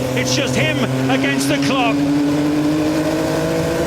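Motorbike engine on a speed record run, a steady drone holding under close, continuous narration, pitch tones climbing gradually as the revs rise.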